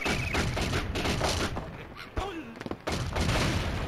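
Dynamite explosions in an Angry Birds Friends video game, a rapid cluster of booms and thuds in quick succession, loud and close amid busy game sound effects.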